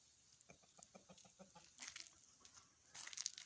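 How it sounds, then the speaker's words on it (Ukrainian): Hens and a young rooster cluck while wandering outdoors on a mild day, a faint series of short rhythmic clucks followed by a few louder squawks, with no talking. "Ось курочки гуляють."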